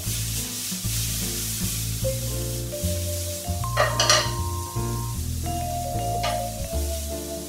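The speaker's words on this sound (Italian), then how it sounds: "Li facciamo saltare un attimino" Pieces of sea bass sautéing in a pan with a little parsley, a steady close sizzle with stirring and scraping, a few brief clinks of utensil on pan.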